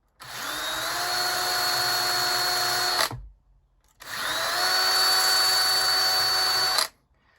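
A rotary power tool whirs steadily while polishing 1:100 scale model handrails, running in two sustained bursts of about three seconds each with a brief silent gap between, close and fairly loud with no talking.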